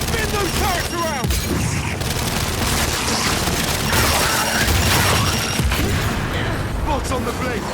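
Turret gunfire in the Gears 5 video game rattles in dense, continuous bursts with heavy booms, loud and unbroken across the whole stretch, while players shout over the barrage.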